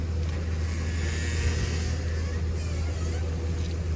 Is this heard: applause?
no